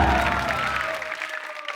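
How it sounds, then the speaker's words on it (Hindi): Studio audience clapping at a comedy show, a short burst of applause that fades over under two seconds, with a voice and a sustained tone carrying above it. "जोरदार तालियां।"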